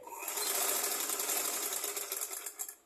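A sewing machine runs at a steady fast clatter while stitching a folded fabric strip for an umbrella, close and continuous, then slows and stops.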